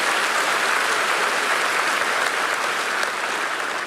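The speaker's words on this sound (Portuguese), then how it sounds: "Uma salva de palmas, coisa linda." Congregation applause at a church service in Curitiba, a dense, even roar of many hands clapping at close range, unbroken for the full few seconds with no voices above it.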